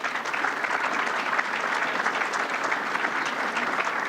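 Sustained applause from a fan forum audience, dense and steady clapping filling the room without pause for several seconds.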